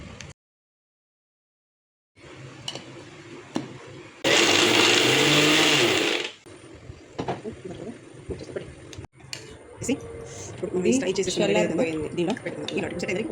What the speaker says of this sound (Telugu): ఈ మిగిలిపోయిన దాన్ని మిక్సీ చేసేసుకుందాం